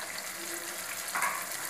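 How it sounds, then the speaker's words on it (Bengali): Spices and chilli paste sizzling in a pan while being cooked for a soybean kofta curry, a steady soft frying hiss with a brief louder splash of sizzle near the end. "কিছুটা সময় মশলাটা ফ্রাই করে নিতে হবে"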